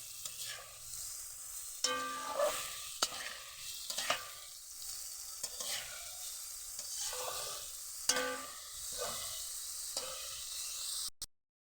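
Boiled potato being sautéed in masala for raw banana kofta, with a soft sizzle and distinct, irregular scrapes and knocks of a spatula stirring in the pan, close up and without speech.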